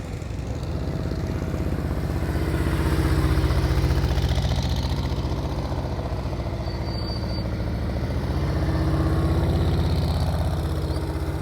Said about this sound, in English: You hear her throttle, not too high, not too low.